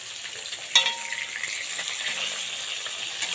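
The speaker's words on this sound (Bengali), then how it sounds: "এখন ভাজা করে নিই।" Sea fish fries in a pan with a bright, steady sizzle, opening with a sharp clink and followed by soft crackling pops.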